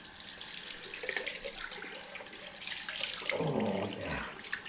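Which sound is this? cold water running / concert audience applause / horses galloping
cold water running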